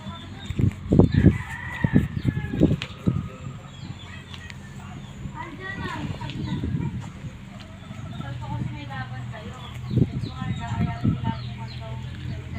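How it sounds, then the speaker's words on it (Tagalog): Fighting roosters in their cages crow and cluck at close range, with a clear crow in the middle and scattered clucking, while a person talks over them at intervals. "Yan ang ating mga manok."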